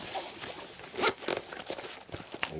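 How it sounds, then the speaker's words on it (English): A zipper being pulled open on a tactical bag, several quick scraping zips and rustles of fabric, close and clear with no talking. "Two big zippers."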